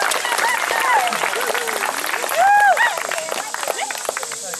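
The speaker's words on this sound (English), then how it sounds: "So let's give them a round of applause." A round of applause for guests at a summer camp gathering, clapping from a crowd with children's voices, shouts and chatter mixed through it.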